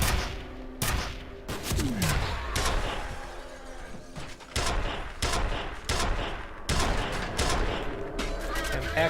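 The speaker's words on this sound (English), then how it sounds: "I'm actually shooting nails at these guys with this thing." A nail gun fires repeatedly in F.E.A.R. on Xbox 360, sharp bursts of close gunfire in irregular volleys, with thuds and crashes between shots across several seconds.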